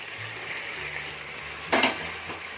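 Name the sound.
tomatoes and onions sautéing in pan for mutton biryani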